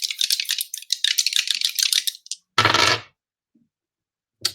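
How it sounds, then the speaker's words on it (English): Dice rattle in a cupped hand with a bright jittery clatter, then tumble and clack onto a surface in a short loud burst before falling silent. "I'm just going to take the dice here."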